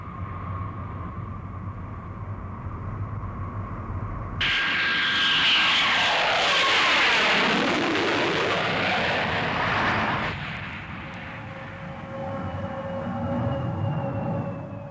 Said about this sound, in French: Nous venons d'atterrir à Hong Kong.